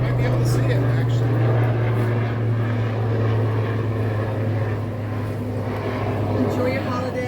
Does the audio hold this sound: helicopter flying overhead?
yes